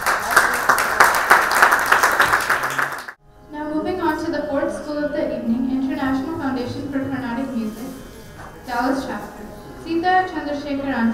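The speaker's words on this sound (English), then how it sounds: "a round of applause to this great organization" Applause breaks out at a charity fundraising event, a loud, close burst of clapping lasting about three seconds before cutting off abruptly, after which a melodic voice or music takes over.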